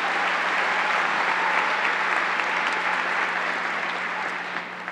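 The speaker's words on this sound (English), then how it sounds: "Let's give your Chancellor a big round of applause for his leadership" Audience applause at a university commencement ceremony, dense and steady clapping from a large crowd that holds loud throughout and eases slightly at the end.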